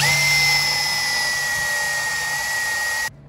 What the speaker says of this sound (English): Drilling into metal, very important to have good bits.